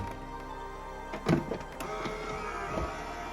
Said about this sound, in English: let's go ahead and get this sent through the machine